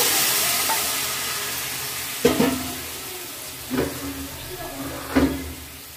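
Boiled water poured into a pan of frying daliya (broken wheat): a loud steady sizzle and hiss, with three sharp bursts of spatter as each bowlful hits the hot pan, close by, no talking.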